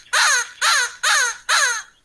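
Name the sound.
crow caw imitated for a crow puppet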